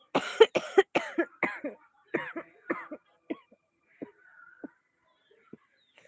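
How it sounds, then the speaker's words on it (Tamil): A person coughs in a rapid burst of dry, harsh coughs, then a few scattered single coughs trailing off into quiet. "வரட்டு இருமல்"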